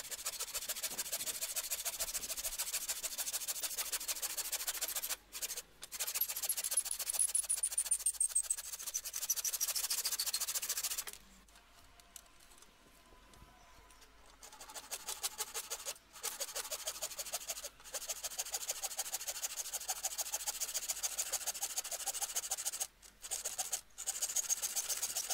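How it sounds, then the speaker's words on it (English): A handsaw cutting through a clamped wooden log: long stretches of steady, rasping back-and-forth sawing, broken by a few brief pauses and one longer quiet gap, close and fairly loud with no speech. "used a handsaw to cut off those pieces"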